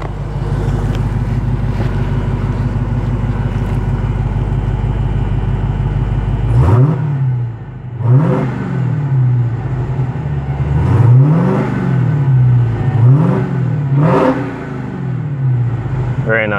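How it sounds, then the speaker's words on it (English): A 2018 Dodge Charger SRT Hellcat supercharged V8 idles with a deep rumble, then is revved hard several times, each sharp rise and fall loud and close, with idle between blips. "let's gonna give a couple of revs"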